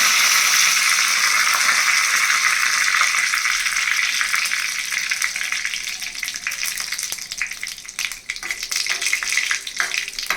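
Cumin seeds and curry leaves frying in hot oil as a tempering for curd rice, a loud continuous sizzle that thins slightly toward the end, with faint crackles, no talk.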